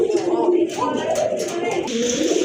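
A pair of large Lalpatti pigeons coo in low, rolling, continuous calls at close range, with a voice faintly in the background.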